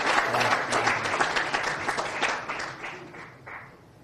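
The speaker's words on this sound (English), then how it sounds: "Let's just have a round of applause for this celebration that we will have." An audience at a Mumbai Marathon press conference claps enthusiastically, the applause dense at first and gradually thinning and fading out.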